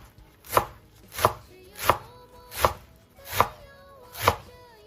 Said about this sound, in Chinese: 改刀给它切成细丝